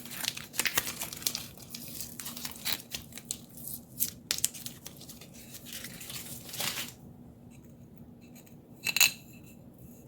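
Adhesive tape peeled off resin-coated tiles, giving close, crackly tearing and crinkling in quick bursts that stop partway through, leaving a quieter stretch with one short rustle near the end.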